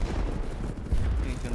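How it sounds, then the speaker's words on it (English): Gunfire in the video game BattleBit Remastered, a dense rumbling barrage of shots and booms, loud and continuous with voice chatter mixed in. "Guy's shooting back."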